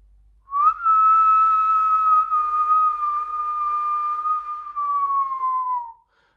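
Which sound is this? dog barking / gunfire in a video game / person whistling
person whistling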